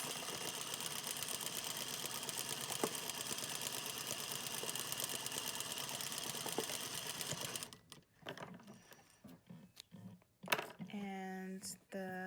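A sewing machine runs continuously as it stitches fabric face mask pieces along a center front seam, a steady close hum with rapid stitching ticks, then stops and leaves handling clatter and a brief voice.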